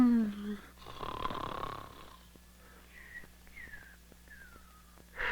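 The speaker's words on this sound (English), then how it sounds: "Either stop snoring or cover your head with pillows." A cartoon character snores loudly through the nose in a few rasping, wheezy breaths, with scored background music and whistling tones running beneath.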